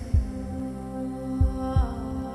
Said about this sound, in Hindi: हर किसी का दिल इसी तरह धड़कता है।